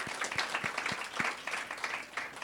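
An audience at a ParlAmericas parliamentary gathering applauds steadily, the dense clapping spread evenly across the moment at moderate volume.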